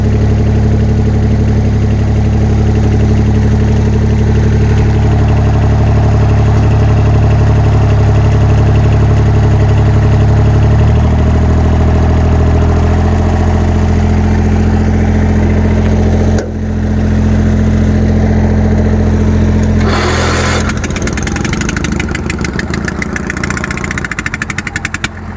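A troublesome Bolens QT 16 garden tractor engine, started cold, runs loud and close with a steady droning idle. Its pitch and tone shift partway through as the RPM changes, and a brief drop comes near the end.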